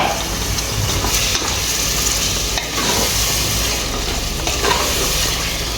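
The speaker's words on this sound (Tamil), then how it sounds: "கறியை போட்டு அந்த மசாலாவோட நல்லா கலக்க வைக்கணும்" Meat fries loudly with masala in a pan for bhai veetu biryani, a dense, continuous close-up sizzle broken by repeated scraping stir strokes, with no voices.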